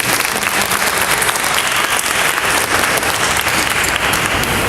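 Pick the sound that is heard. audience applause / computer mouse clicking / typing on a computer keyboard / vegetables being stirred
audience applause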